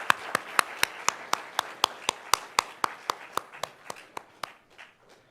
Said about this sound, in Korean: 우리 세 분 인사하실 때 여러분 큰 박수로 다시 한번 격려해 주시고